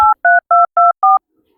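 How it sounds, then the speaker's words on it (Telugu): Touch-tone telephone keypad dialing a number: five clear dual-tone beeps in a steady, even rhythm, close and loud, then silence. "కిరణ్ గారికి ఫోన్ చేద్దాం."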